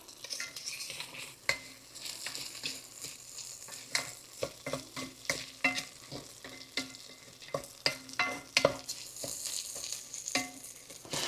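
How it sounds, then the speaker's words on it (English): Rice and vegetables for a Mexican taco casserole browning in a pan, with a utensil scraping and stirring in irregular strokes over a steady sizzle, close and moderately loud with no talking. "We're just going to stir all this stuff up here."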